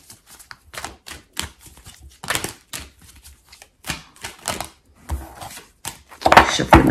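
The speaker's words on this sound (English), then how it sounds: "Shuffling the cards." Tarot cards being shuffled by hand, a run of crisp papery riffles and taps in quick bursts with short pauses, growing louder toward the end, with no talking.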